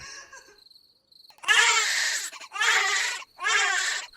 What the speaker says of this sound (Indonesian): suara bayi memecah kesunyian malam